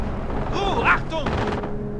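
Gunfire in the World War II strategy game Company of Heroes, a dense burst of rapid shots and booms with a voice shouting over the battle.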